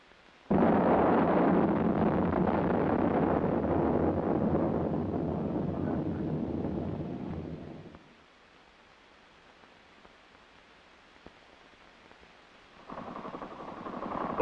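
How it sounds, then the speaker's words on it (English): A 115mm multiple rocket launcher fires with a sudden roaring blast that rushes loudly for several seconds and then drops to near quiet before another roar starts, heard through an old military film soundtrack. "The 115mm multiple rocket launcher concepts of modern warfare are projected upon a battlefield greatly expanded in depth"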